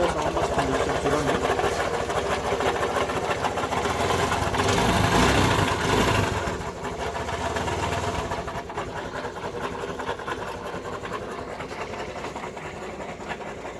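A Honda Activa 125 scooter engine idles steadily nearby, its continuous hum carrying a dense metallic rattle from the cylinder head linked to a camshaft problem, swelling briefly in the middle and then settling slightly quieter.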